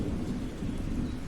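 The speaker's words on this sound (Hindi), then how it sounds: "फिर एक दिन जंगल में काफी बारिश होती है।" Heavy rain pours steadily through a cartoon forest with rumbling thunder, forming a dense, continuous roar of downpour with low booms rolling underneath.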